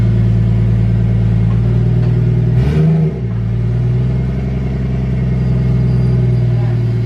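A Mk4 Toyota Supra engine with a T56 Magnum six-speed and no exhaust idles with a deep, steady rumble, then briefly revs up around the middle before settling back to a rough, throaty idle, close by.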